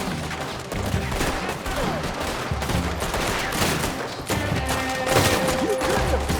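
Sustained gunfire in Red Dead Redemption 2, a dense, loud barrage of overlapping shots lasting the whole stretch, with brief lulls and sharp reports layered over game background sound.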